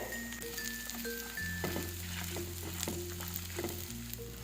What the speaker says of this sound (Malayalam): നമ്മുടെ ഈ ഒരു തേങ്ങയൊക്കെ നല്ലോണം ഒന്ന് മൂത്ത് വരട്ടെ